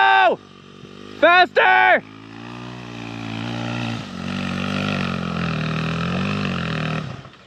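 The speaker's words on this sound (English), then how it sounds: "If the bike's not screaming in second and it's just kind of bogging, you won't make it." A dirt bike revs hard in second gear on a trail, its engine a steady, buzzing roar that builds and holds. Loud shouts of encouragement come first, then the engine runs on under them.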